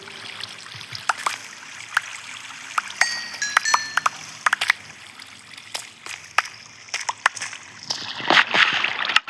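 Water splashes in the Minecraft video game come as repeated sharp sloshing bursts with trickling in between, growing into a denser splashing wash toward the end; no talking is heard.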